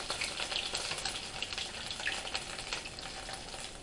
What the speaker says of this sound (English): Seeing a little bit of grease popping on me, and it's popping everywhere.